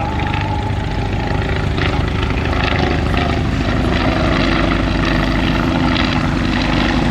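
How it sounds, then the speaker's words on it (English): A Fokker Dr. I triplane flying in to land at Old Rhinebeck Aerodrome, its propeller engine droning loud and steady throughout, near and unbroken. "And now the last airplane to return will be the DR-1 triplane."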